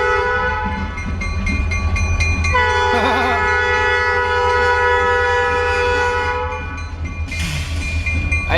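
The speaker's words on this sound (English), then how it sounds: "I think that train horn's sick." A train horn blares loudly in sustained multi-tone blasts with a wavering, off-key pitch, backed by a low rumble of the passing train.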